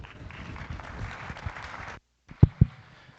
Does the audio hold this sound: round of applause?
yes